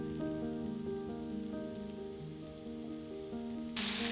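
King trumpet mushroom chunks sauté in a pan with a soft, steady crackling sizzle and faint pops. A louder burst of hiss comes right at the end.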